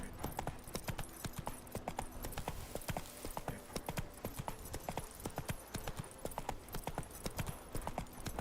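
Hooves of the horse Roach in The Witcher 3: Wild Hunt, a quick even clip-clop rhythm of a galloping game horse, up close and continuous, with faint background voices underneath.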